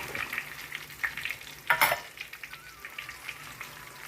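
Curry leaves, dried red chillies and shallots drop into hot oil, setting off a soft, spattering sizzle with a sharp burst partway through, then lighter crackles; fairly quiet and close, with no talking.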